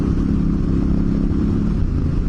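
Motorcycles riding past on an off-road outing, a loud, steady engine drone that stays close and constant throughout without talk.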